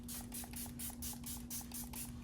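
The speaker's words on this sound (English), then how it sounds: "does anybody spray like setting spray in between?" Makeup setting spray is misted in a series of about nine short, evenly spaced pump bursts, each a soft hiss, close and fairly quiet with no talking.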